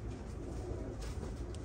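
Soft, low cooing from female pigeons kept by a fancier, a steady, faint throaty murmur with no voices over it.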